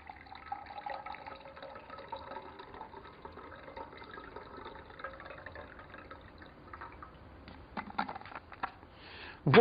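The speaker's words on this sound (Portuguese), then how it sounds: "E pegamos a água gelada e colocamos no outro copo." Ice-cold water from a thermos poured into a cup for a classroom chemistry demonstration, a soft, steady liquid pour that grows louder and splashier near the end, with no talking.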